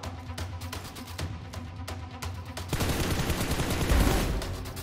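Dense bursts of gunfire in the mobile battle royale game PUBG Mobile, building from scattered shots into a loud, continuous fusillade of rapid automatic fire with no talking.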